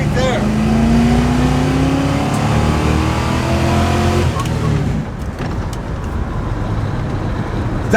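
A vintage muscle car accelerates hard from a 10 mph roll, its engine note loud and rising, then settling into a rough rumble, with someone talking over it.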